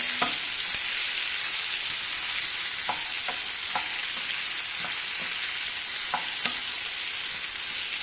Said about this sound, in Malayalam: വെളിച്ചെണ്ണയ്ക്കകത്തൊന്ന് കുറച്ചൊന്ന് നന്നായിട്ട് വഴറ്റിയെടുക്കാം നമുക്ക്